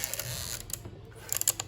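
A Plaubel Makina 67 medium-format camera's film advance lever being wound, a brief run of close, quiet ratcheting mechanical clicks.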